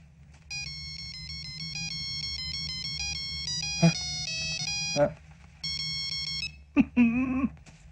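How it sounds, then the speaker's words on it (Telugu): A phone ringtone plays a bright electronic melody in repeated bursts of tonal beeps, clear and fairly loud, with brief louder knocks and a short voice near the end of the scene. "ఏంటి రింగ్ టోన్ సార్"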